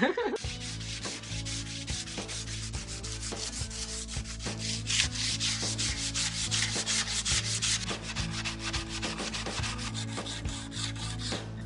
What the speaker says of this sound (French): je suis en train de continuer de poncer, je suis en train de poncer celle-ci